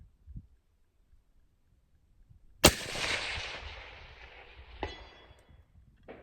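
A single sharp rifle shot from a 25GT fitted with a suppressor or muzzle brake cracks out of near silence, followed by a long rolling echo and a smaller distant report, heard outdoors.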